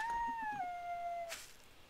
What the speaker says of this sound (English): It's the coyote.